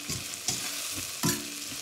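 Vegetables for sooji upma cook in a pan with a soft, close frying sizzle, broken by a few quick scraping stirs.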